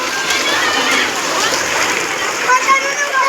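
Children bathing in monsoon rainwater on a rooftop terrace splash and slosh through a continuous wash of falling rain, with a few louder splashes near the end and voices nearby.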